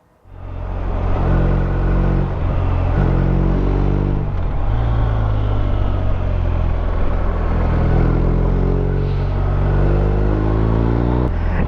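A 2021 BMW R1250RT touring motorcycle is ridden, its engine giving a loud, steady, close droning rumble that holds an even pitch throughout with no voices.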